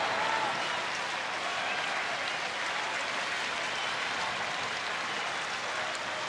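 A baseball stadium crowd roars steadily behind the pitcher during a Rangers home game, a dense, far-off wall of cheering and applause that holds at an even level throughout.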